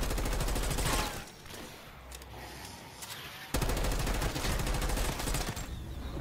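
Automatic gunfire in Call of Duty Black Ops 6 Zombies, two long loud rapid bursts separated by a short pause, close and dominant with no speech.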